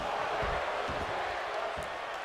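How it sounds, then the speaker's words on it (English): Steady roar of a large arena crowd in a WWE 2K22 wrestling match, a dense wash of cheering with a few dull thuds underneath, continuous and loud throughout. "You hear the crowd, they want tables."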